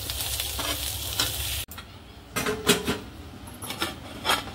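Scraping and stirring of okra masala in a pan over faint sizzling, with several rhythmic spoon strokes after a brief pause.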